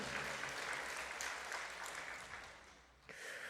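A church congregation at a Sunday service claps in steady, dense applause, faint and somewhat distant, dipping briefly before a final burst.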